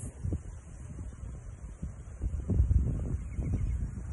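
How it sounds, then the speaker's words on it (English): Gusty outdoor wind buffets the microphone in low rumbling surges, steady and fairly loud throughout with no talking. "I am outside with a windy day, so please forgive the blowing pages."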